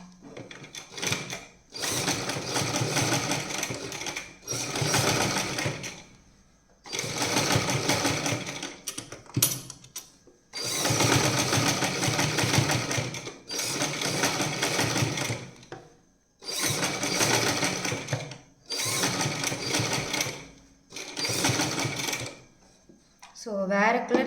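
A sewing machine stitches a keyhole neckline with coloured thread, running in repeated bursts of steady mechanical whirring that stop briefly between them and keep the same level throughout.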